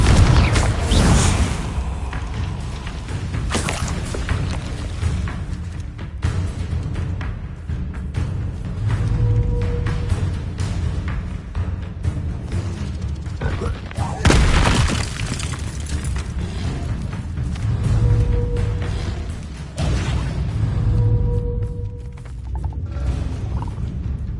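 Blasting-spell explosions in the Hogwarts Legacy video game, several loud booming bursts with crackling debris spread across a continuous game soundscape, mixed with intermittent tonal effects and no clear speech.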